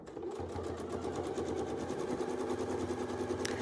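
A domestic sewing machine stitches rapidly and steadily through a quilted fabric sandwich during edge-to-edge quilting, its motor and needle making a loud, continuous rhythmic hum close by.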